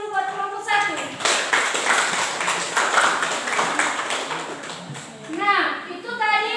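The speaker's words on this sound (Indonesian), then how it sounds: "kasih aplaus dulu buat kelompok 1" Classroom applause for student group 1: a room of students claps together for several seconds in a steady patter, with a voice talking before and after the clapping.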